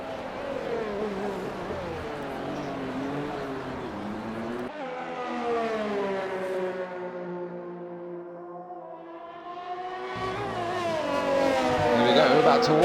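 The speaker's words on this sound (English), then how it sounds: "Ferrari engine sounds pretty good in the back as well" A Ferrari-powered Haas F1 car screams through a racing video game, its engine pitch rising and falling steadily through gear changes, loud and continuous with a commentator talking over it.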